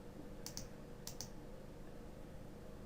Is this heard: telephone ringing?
no